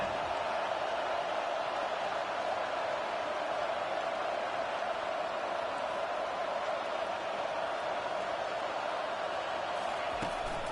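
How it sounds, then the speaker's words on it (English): A steady, continuous crowd roar fills the whole stretch, a broad wash of noise with no breaks or talking. "The roar of the crowd trying to fuel this defense to keep them pinned in their own end."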